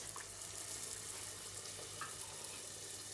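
Continuous bubbling sizzle of yeast dough pieces frying two at a time in hot oil, steady and close, with no voices.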